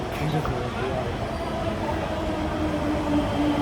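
Steady rumble of a Delhi Metro train in motion, a continuous loud roar with faint tonal whines, heard from inside a carriage with voices murmuring underneath.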